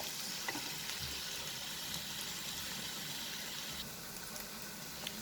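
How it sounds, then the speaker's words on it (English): A steady, soft sizzle of prawns frying with onion, chili and curry leaves in a pan over a medium flame, continuous and even throughout with no voices. "fry these prawns along with this onion, chili, curry patta over a medium flame first"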